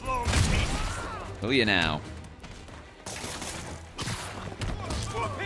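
Bursts of gunfire and impacts in the video game Marvel's Spider-Man Remastered, mixed with a brief spoken line and whooshing effects, the shots mostly beneath the voices.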